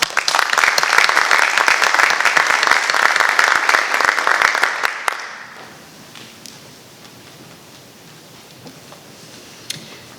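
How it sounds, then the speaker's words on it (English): A large audience applauds at a National Honor Society induction ceremony, with loud, dense clapping for about five seconds that then quickly dies away into a quiet, faintly murmuring hall. "Please join me in thanking them with a round of applause."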